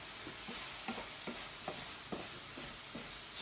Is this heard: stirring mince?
yes